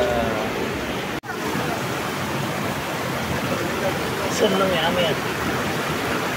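River water flows steadily as a broad, continuous rushing wash close by at Cikadongdong in Majalengka, with people talking over it.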